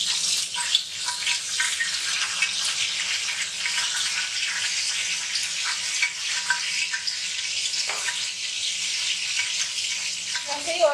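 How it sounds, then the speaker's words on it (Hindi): Cooking oil hits a pan in a home kitchen, giving a steady hiss and sizzle with watery crackling throughout, plus a few clinks near the end. "सबसे पहले हम ऑयल डालेंगे"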